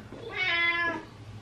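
A cat meows once, a clear, close, drawn-out cry in a quiet home with no talking over it.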